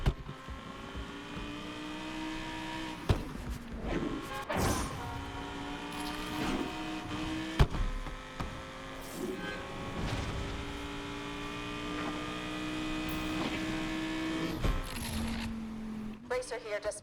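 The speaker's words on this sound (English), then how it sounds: "let me just shut up and so you guys can hear the sound of the V10" A V10 racing car engine in the video game NFS Unbound roars and revs, rising and falling through gear changes with sharp shifts, loud and steady throughout.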